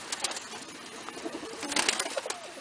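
Released pigeons flap and flutter near the loft in brief bursts of wingbeats and rustling, close and moderately loud, with no talk.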